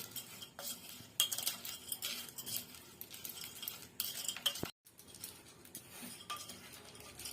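A spoon stirs and scrapes through Maggi noodles tossed with chaat masala in a bowl, producing quiet close clinks and scraping strokes in uneven bursts with a brief pause near the end.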